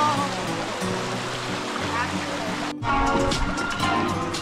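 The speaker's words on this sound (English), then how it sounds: "Oh my god, it's really dripping." Water streaming and dripping along a levada trail on a Madeira hike, a steady close rush and splash with voices talking over it and a brief shift midway.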